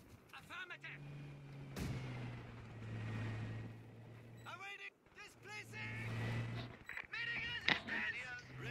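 Artillery explodes in Company of Heroes 2 with a sharp boom, answered by a second blast a few seconds later. Game engine drones and battlefield noise run between the strikes, and voices speak over the action.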